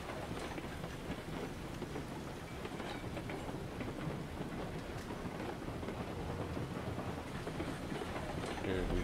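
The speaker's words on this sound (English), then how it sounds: "Too much rain." Heavy rain pours during a thunderstorm in RailRoads Online, a continuous dense hiss with a low rolling rumble underneath, faint but steady and swelling slightly at the very end.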